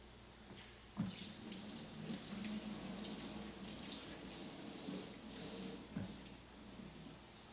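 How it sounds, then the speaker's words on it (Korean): Tap water runs steadily into a kitchen sink as vegetables such as enoki mushrooms and scallions are washed, a quiet continuous splashing rush with a few louder knocks and clunks, with no talking. "개수대에서 씻어 가지고 준비를 하도록 하겠습니다"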